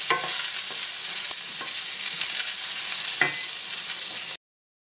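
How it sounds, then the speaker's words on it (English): Onion sautés in a pan with golden ginger and garlic, a continuous bright sizzle broken by a few sharp stirring scrapes, close and without talk. "Saute the onion very well until it's translucent"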